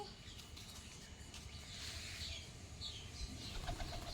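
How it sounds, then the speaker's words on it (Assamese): A pigeon takes off and flaps away outdoors near a village prayer hall, a short flurry of wingbeats over steady open-air background noise. "এইজনী পাৰ এজনী উৰি গৈছে"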